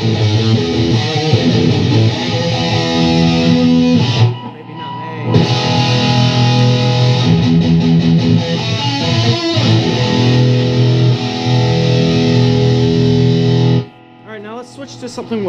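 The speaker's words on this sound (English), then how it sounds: "Rhythm with the distortion all the way up." Heavily distorted electric guitar through a Behringer UM300 pedal with distortion fully up, chugging a thick, sustained rhythm riff, loud and saturated, with a brief break midway and a cutoff near the end.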